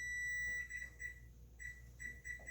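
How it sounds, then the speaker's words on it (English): A kitchen timer beeps while yeast bread is being baked, giving a long tone followed by a run of short, evenly spaced electronic beeps, fairly faint against quiet room background. "There's my timer."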